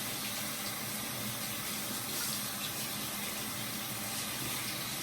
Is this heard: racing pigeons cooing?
no